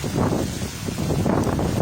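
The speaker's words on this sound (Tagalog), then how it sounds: "Mas lumalang, mas lumakas pa po yung hangin tsaka ulan po" Loud, roaring wind buffets the microphone in continuous gusts, with a dense rushing noise of heavy rain during Typhoon Ulysses.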